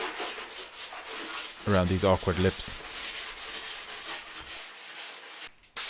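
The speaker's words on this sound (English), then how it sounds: "Use the sanding block to get in" Steady scraping and rubbing of a sanding block across a Daihatsu Charade car body, continuous throughout, with a person speaking briefly partway through.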